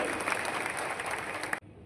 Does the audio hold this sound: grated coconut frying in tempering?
no